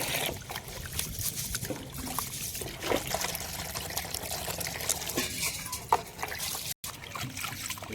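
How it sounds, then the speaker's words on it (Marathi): Rice and split mung dal being washed by hand in water in a kitchen, giving a faint, continuous trickling and sloshing with soft swishes and splashes and no voices. "आता हे तांदूळ आणि मुगाची डाळ मस्त चटचट धुवून घेतो."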